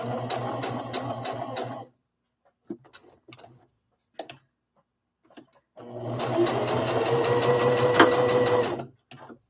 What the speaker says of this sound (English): There are sewing machines that'll always, when you stop, it'll always stop